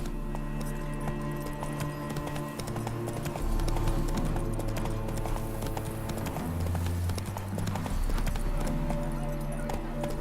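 Clip-clop of Roach, a horse in The Witcher 3: Wild Hunt next-gen on PC, galloping steadily under a dense, continuous game music score with no pauses.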